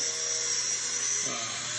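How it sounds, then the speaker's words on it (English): A power grinding tool whines steadily in a workshop, a loud continuous high-pitched hum that dips slightly in pitch near the end, with no pauses. "doing some grinding there"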